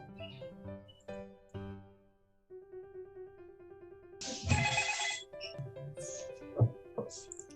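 A telephone rings at a hospital nurse station, with repeated electronic ring tones over a background of other sounds.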